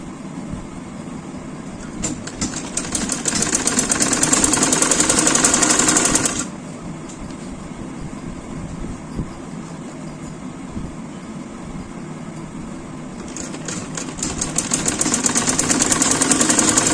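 Sewing machine stitching elastic into a trouser waistband, a fast steady whir running in two bursts with a quieter pause between them, close and loud with no talking.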